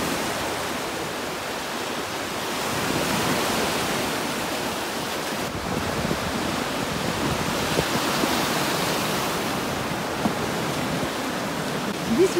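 Sea waves wash onto a beach at a Bulgarian resort, a steady broadband rush of surf that swells slightly after the first few seconds and continues evenly with no voices.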